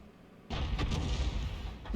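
A single loud, close artillery blast from an SU-14 self-propelled gun in World of Tanks booms out suddenly and rumbles on with a dense, sustained low roar until the end.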